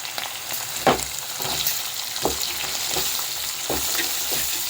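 A single medium-sized onion sautés in a pan, a loud continuous sizzle close by with soft scraping stir strokes recurring about once a second, and no talking.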